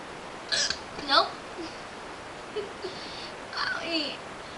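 A person hiccups three times in quick, sharp bursts, with brief quiet breathing gaps between them, recorded close up.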